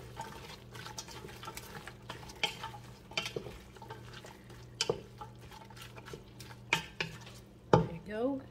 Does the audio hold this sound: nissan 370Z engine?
no